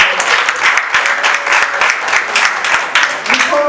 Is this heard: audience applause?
yes